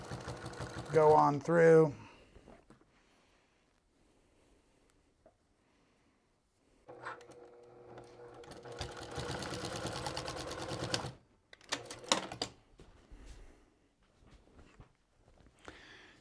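A sewing machine top-stitches minky fabric on a weighted blanket. A voice speaks briefly at the start, then after a quiet pause the machine runs in one close, buzzing burst of stitching lasting several seconds, followed by a few short stitches.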